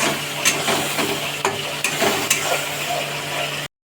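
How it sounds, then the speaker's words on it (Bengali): Potatoes fry in oil in a kadai while a chicken curry is being made, a steady sizzling hiss with a few sharper crackles and stirring scrapes, close and continuous without talk. "এটা দেওয়ার জন্য অন্য একটা কড়াইতে আলুগুলোকে ভালোভাবে ভেজে নিচ্ছি।"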